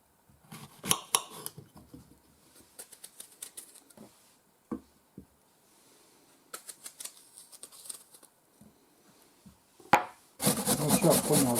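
An apple is grated on a hand grater in short, sparse rasping strokes separated by quiet gaps, ending in a louder, sustained stretch of grating close by.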